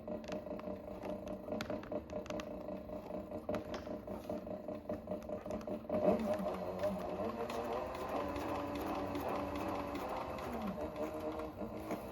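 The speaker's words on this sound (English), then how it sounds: "And I will stitch each one on the same way." A sewing machine stitches a leather tool roll, giving a steady close mechanical whir with a fast rhythmic clatter and one brief louder knock partway through.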